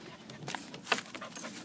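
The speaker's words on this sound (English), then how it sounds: "She's the puppy right there." A puppy on a farm pants in hot weather, giving a few quick, soft breathy puffs close by against quiet outdoor background noise.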